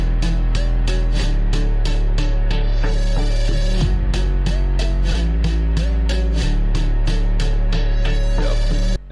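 A dense FL Studio beat layers its melodic elements with a counter guitar line, a loud, continuous texture that includes sharp rhythmic transients and a deep low end, running throughout the clip without any talking.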